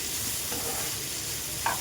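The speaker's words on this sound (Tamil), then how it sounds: "பச்சை மிளகாயை போட்டுருங்க. பூண்டு போட்டுருங்க. உரித்து வச்ச பூண்டு போட்டுருங்க. சும்மா அப்படியே லேசாக வதக்கும் போது" Green chillies and peeled garlic sautéing in a pan, giving a dense, steady sizzle that holds at an even level throughout, with a brief clink of stirring near the end, close and without voices.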